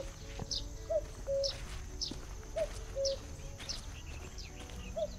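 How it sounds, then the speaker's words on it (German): A cuckoo calls in a forest scene of the adventure game The Night of the Rabbit. Soft, evenly spaced two-note coos repeat over a quiet background of chirping birds and insects. "Ich höre den Kuckuck."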